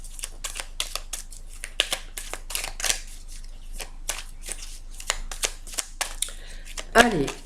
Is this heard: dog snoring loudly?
no